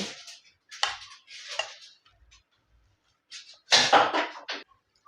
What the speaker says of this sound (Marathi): अशी मॅशरनी बारीक करायची